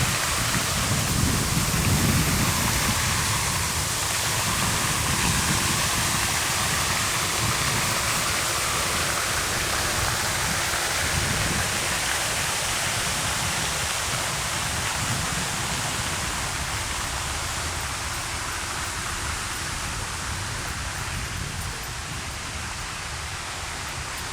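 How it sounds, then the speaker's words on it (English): Steady broadband rushing of the Bark River flowing through woods, continuous and fairly loud throughout, with no voices. "To the left of me is the Bark River."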